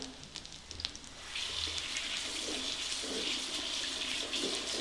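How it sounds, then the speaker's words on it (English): Tap water runs steadily into a bowl being rinsed out in a home kitchen, starting after a second of quieter handling noises and continuing as an even, close splashing rush. "I'm gonna rinse this out too."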